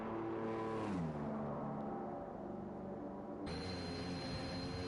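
Formula 1 cars on the track at the Australian circuit in F1 2021 give off a high whining engine roar whose pitch drops as a car passes, and a second engine surges in partway through.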